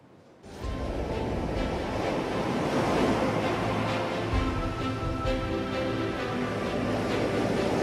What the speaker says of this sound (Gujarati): દરિયામાં સતત કરંટ અને ઊંચા ઉછળતા મોજા